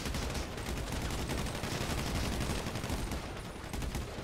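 Dense gunfire in GTA 5 rattles steadily throughout, a rapid stream of fairly distant shots forming an unbroken crackling barrage with no talking.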